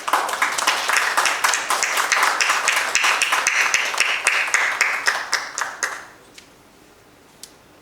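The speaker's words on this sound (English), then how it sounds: "Let's congratulate them with a round of applause." Applause from an audience at an Indian industry event marking a joint venture between Groupe Pernat and Forward Manufacturing: steady crowd clapping that thins out and stops about six seconds in, with a lone clap near the end.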